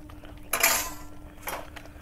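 A metal ladle scrapes and clinks against a pot while mashing boiled masoor lentils with bottle gourd, in two short bursts amid quiet.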